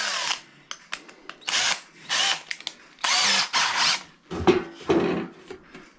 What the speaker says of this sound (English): Now we need to get our 8mm drill bit.